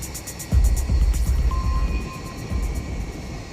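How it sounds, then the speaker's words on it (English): Antonov An-124 cargo plane on its takeoff roll: a low, steady engine roar swells in after a moment and holds, with a faint high whine above it, heard from a distance. "the largest production cargo plane in the world takes off again"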